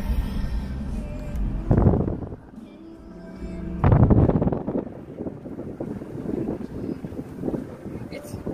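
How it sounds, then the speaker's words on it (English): Wind buffets the microphone in gusts at a graveyard, with rushing roar swelling loudly twice and a steady blustery hiss between, people talking faintly beneath. "windy out here."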